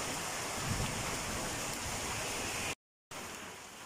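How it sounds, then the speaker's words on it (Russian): Heavy rain pours down steadily outdoors in a broad, continuous hiss, loud and close, with a brief cut to silence near the end before the downpour resumes. "Какой льет дождь, слышите?"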